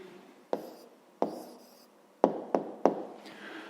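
Pen strokes and taps on paper while writing down the answer to a fifth-grade math exercise, a handful of short sharp marks spaced irregularly, close and fairly quiet with no talk.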